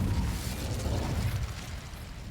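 An Incendio fire spell cast in the Hogwarts Legacy video game, a dense, roaring whoosh of flame with a heavy low rumble, loud and sustained for about two seconds, no talk.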